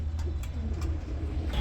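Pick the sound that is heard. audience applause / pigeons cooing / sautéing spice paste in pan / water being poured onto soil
pigeons cooing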